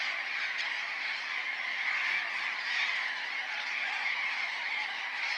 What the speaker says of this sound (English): Even colorful, noisy flocks of burrowing parrots can find a place to call home in these